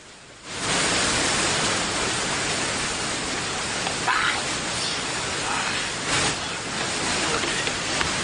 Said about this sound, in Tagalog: Muamba ko sa luyo sa dinagayday sa waterfalls.